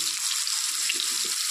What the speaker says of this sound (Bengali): তো এই ফোড়নের তেলের মধ্যে দিয়ে দেব কেটে রাখা আলু